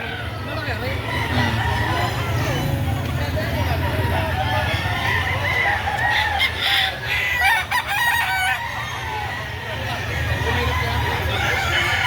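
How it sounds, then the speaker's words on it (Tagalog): Chickens and roosters at an early-morning poultry market in Lipa City, Batangas, with loud clucking and crowing over a busy crowd murmur, close by and continuous. "marami po kayong manok dito na mapagpipilian no"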